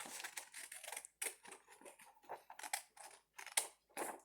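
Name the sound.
cutting paper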